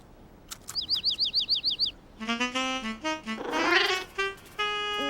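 Cartoon small bird chirps in a quick run of about eight bright repeated tweets, followed by louder tonal cartoon calls and music-like whistles, close and clear with no talk.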